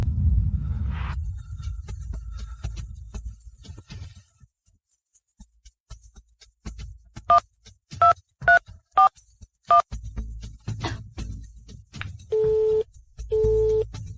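A phone number dialed on a telephone keypad: a rapid run of distinct DTMF beeps, near and clear, then two longer steady tones, after quiet low rumble at the start.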